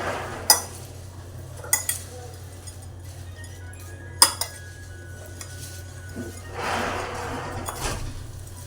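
Bhel mixed with a spoon in a bowl: sparse clinks and taps of metal against the dish, a soft rustle of stirring, and a low steady background hum.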